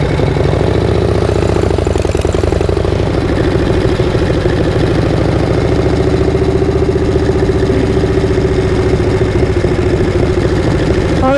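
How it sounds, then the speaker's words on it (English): A motorcycle engine idling steadily on an evening street, a continuous loud low rumble with an even throb that persists throughout without breaks. "Idle sounds a little bit higher."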